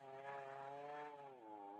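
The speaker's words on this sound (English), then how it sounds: "I don't know if you can hear me over the chainsaw" Chainsaw running steadily near burning buildings during a nonstop firefight, a loud close engine drone holding one pitch with a slight dip toward the end, alone with no talk.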